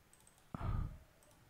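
A computer mouse clicks during vector tracing work in Illustrator: a sharp click sounds near the middle, followed by a short, breathy low rumble, against quiet room tone.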